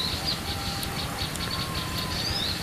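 A male kemadai bird chirps near a bird trap outdoors, with faint high tweets and short calls over a steady background hiss of ambient noise.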